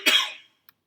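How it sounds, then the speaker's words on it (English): A single short, close cough rings out and fades quickly, leaving near silence. "we often have a cough"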